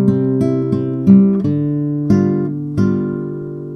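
Nylon-string guitar plays the opening two bars of a simple waltz, bass notes followed by plucked three-string chords, several clear attacks ringing close and solo without talk.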